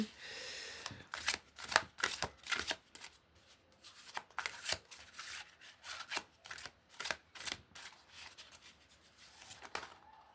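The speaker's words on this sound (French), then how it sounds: "on va se tirer une petite carte avant de se quitter" Oracle cards are shuffled and handled close up in a quiet room, giving a run of quick, crisp riffling and slapping bursts with brief pauses between them.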